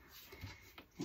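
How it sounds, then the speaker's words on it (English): A dog whines for cheese in a few faint, short whimpers against a quiet indoor background. "If you hear Apollo whining in the background"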